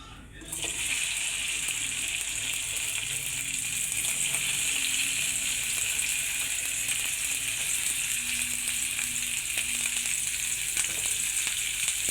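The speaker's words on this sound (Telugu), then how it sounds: "కొంచెం కాగాక బెండకాయలు వేపి తీసుకుందాం" Okra (lady finger) sizzles in hot oil with turmeric in a pan, a steady bright crackle that starts abruptly and continues evenly, with light stirring and a faint watery undertone.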